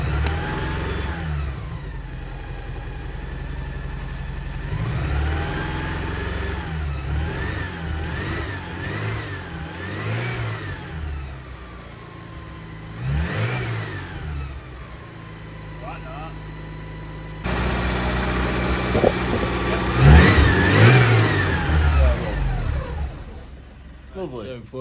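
A Porsche 944 engine runs and revs repeatedly, its pitch rising and falling in several swells and settling into a steady idle between them. It is loud and close, with a person talking over it.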